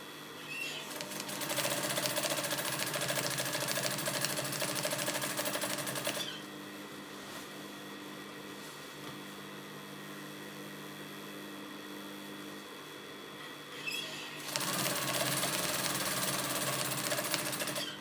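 Sewing machine stitching fabric for Thai trousers, a steady loud whirring run that drops to a quieter, slower stretch midway before speeding up again near the end, with no voices.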